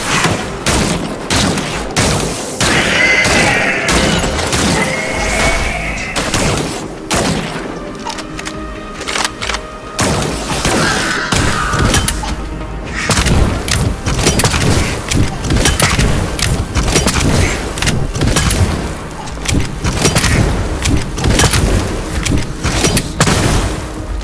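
Sustained gunfire from the video game Scars Above, loud and dense, with repeated booming shots and rapid bursts running almost nonstop, only briefly easing midway before resuming.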